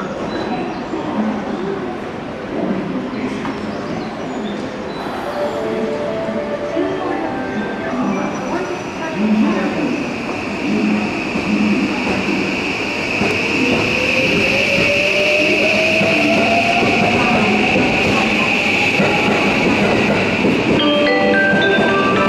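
JR trains on the Osaka Loop Line pull into Tennoji Station during evening rush, with loud rumbling and clattering wheels, a rising-then-falling tonal whine as one brakes, and a high ringing tone, all under platform announcements.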